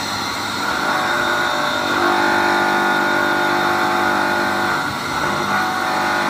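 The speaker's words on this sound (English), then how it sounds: "I'm applying a load on the electric motor" A modified 3 horsepower electric motor runs under load with a loud, steady, continuous whirring drone that holds constant throughout, with no voices.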